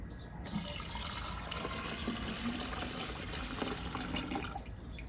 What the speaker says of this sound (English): You start by pouring the cool water into the reservoir here.